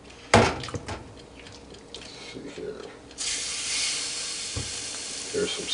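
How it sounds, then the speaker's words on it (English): Meat hits the hot grill of a Cuisinart air fryer toaster oven, and a steady hiss builds to a loud sizzle after a few clatters and knocks, with talk heard over it. "Here's some sizzle."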